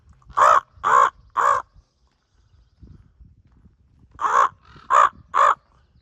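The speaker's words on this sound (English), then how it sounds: "Talk to this raven." A raven calls out in two bursts of three loud, harsh caws, a short pause between each, with soft shuffling and footstep-like noises in the gap between the groups.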